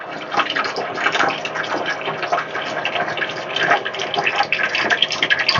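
Water runs slowly from a reverse osmosis water filter, a close, continuous trickle with a gently fluctuating hiss and splash, alone without talk.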